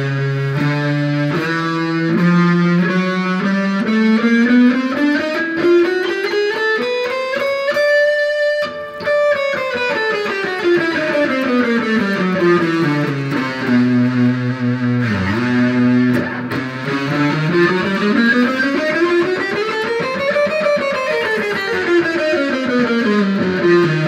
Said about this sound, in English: Let's put a ton of distortion on it.